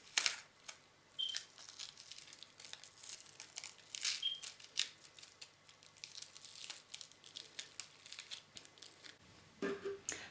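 Adhesive tape strips are pulled, pressed and smoothed onto a sandpaper sheet, giving faint, close crinkling, peeling and tapping sounds in an irregular sequence.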